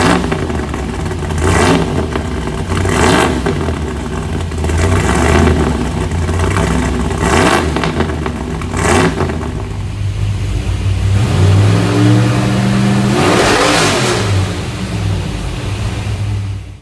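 A Gen 1 small block 355 cubic inch race engine revs in repeated sharp bursts over a rough idle, then climbs and falls through a longer sweep, loud and close with no talking.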